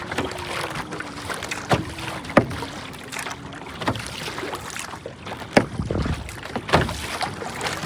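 A kayak paddled across open water, rhythmic paddle strokes splashing and dripping at close range every second or so, with wind buffeting the microphone.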